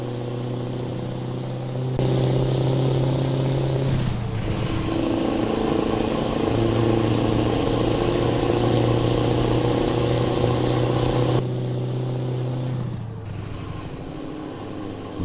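A Scania RJL truck with an open pipe exhaust in Euro Truck Simulator 2 drones loudly and steadily, its deep engine note rising and dropping through gear changes over about fifteen seconds.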